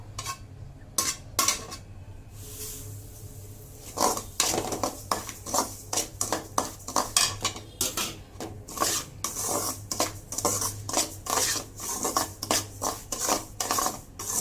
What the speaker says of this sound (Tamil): இப்போ அதே கடாயில் ஒரு அழகு எடுத்து வச்சுருக்கோம் இல்லையா ரவை, அதை நெய்யில் வறுக்கணும்.